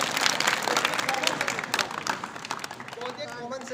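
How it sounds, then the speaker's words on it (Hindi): Lively applause from a group at a disaster-response training session, close, dense clapping throughout with people talking over it. "आलोक के लिए ताली।"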